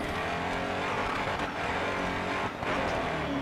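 A race car engine roars continuously in a demolition derby video game, a loud steady droning rev with slight swells and a faint tire screech near the end, no talking.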